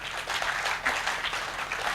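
A small audience claps together for a welcomed member at a Hindi poetry gathering in Pitampura, making a dense, steady patter of many hands for about two seconds with no voices over it.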